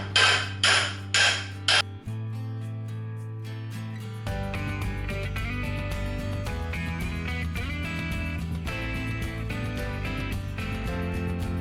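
Several sharp metallic hammer blows ring out on a Honda Super Cub body part, struck with a special tool made from a flattened pipe. A few quick hits come first, then a long ringing tone.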